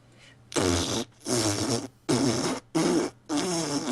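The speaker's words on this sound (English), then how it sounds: "No, that was me farting." Four loud, broad, sputtering farts follow one another in close succession, each lasting about half a second, with short gaps between them and no talk over them.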